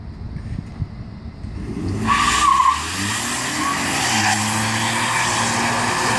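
A 2015 Ford F-150 pickup spins its tires in a burnout, with loud engine roar and rising tire squeal building after a quieter start, a steady sustained scream filling the rest.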